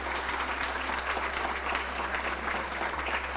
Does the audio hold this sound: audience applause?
yes